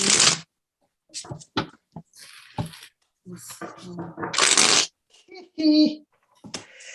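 Tarot cards are shuffled in a few quick, papery bursts that are loud and close, with softer handling noises and short scrapes between them.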